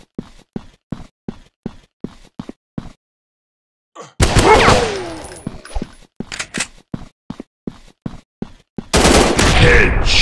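Rapid gunfire from the mobile shooter Fire Squad Battleground, with a run of short evenly spaced single shots followed by dense, loud bursts of automatic fire with impacts and game effects.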